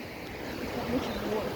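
River Soar floodwater rolls over a small, foot-high waterfall, a steady rushing wash of water heard close, with a faint voice low in the mix.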